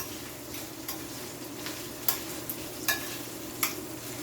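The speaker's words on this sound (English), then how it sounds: "So it is frying up real good." Quiet, steady sizzling of saltfish frying in a pan, Jamaican style, with a few soft clicks of a utensil against the pan.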